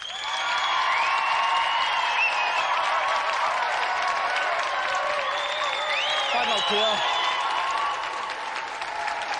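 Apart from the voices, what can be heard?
studio audience applause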